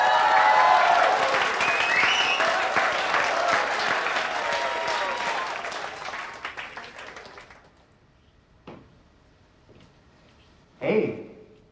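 A theatre audience breaks into loud, dense applause that carries on for about seven seconds, then thins out and fades to near silence, with a few scattered sounds after it.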